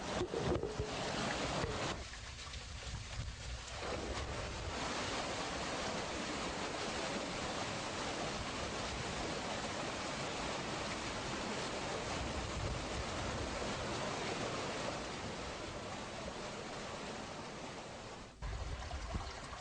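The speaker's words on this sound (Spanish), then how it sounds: "se abrirá totalmente la compuerta a fin de permitir que la presión ayude a eliminar el agua con todo el lodo contenido en la grava" Water and mud rush out of an opened gate on a gravel prefilter at a water intake and sedimentation works: a loud, continuous roaring torrent that stays steady for the whole stretch, with no voices.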